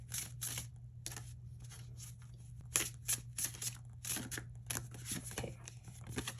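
Tarot and oracle cards being shuffled by hand, a close, quiet series of crisp riffling bursts and soft slaps in an irregular rhythm, with no talking.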